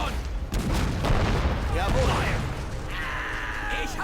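A grenade bursts in the Men of War: Assault Squad 2 war game, a sharp nearby blast followed by rumbling battle noise and distant gunfire with thin whistling tones.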